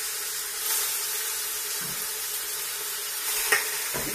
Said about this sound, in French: Moi j'aime toujours faire revenir d'abord un tout petit peu,